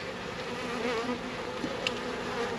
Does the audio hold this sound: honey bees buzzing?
yes